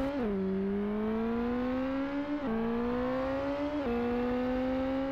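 Motorcycle engine in the SBK 16 racing video game, a strong tonal whine climbing steadily in pitch through repeated gear shifts, with two clear shift drops, loud and continuous with no talk.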